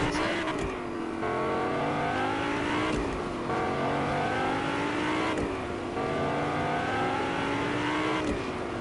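The Whiplash car in the video game Fortnite drives fast, its engine droning loudly with steady, rising revs that shift through gears several times in one continuous run.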